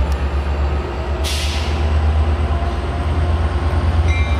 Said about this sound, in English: Metrolink 706 departing, final destination, Riverside downtown.